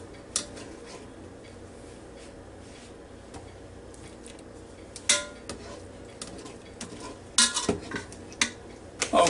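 Vegetables scraped with utensils from a pot into a bowl, giving scattered metallic clinks and clatters of cookware and cutlery over a low background hum, with sharper clusters of clanks toward the end.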